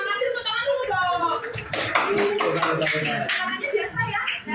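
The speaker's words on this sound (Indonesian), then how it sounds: "tepuk tangan dulu dong" Applause breaks out as an audience of children claps their hands, a busy patter of claps at moderate loudness mixed with children's voices and chatter throughout.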